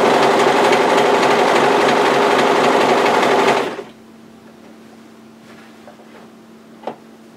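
A four-thread serger stitches a knit tee in a fast, steady mechanical whir for several seconds, then stops abruptly, leaving a faint hum and a single small click.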